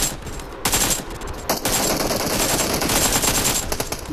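Sustained automatic gunfire during a PUBG match on the Miramar desert map, a dense loud stream of rapid shots with brief pauses, game ambience behind.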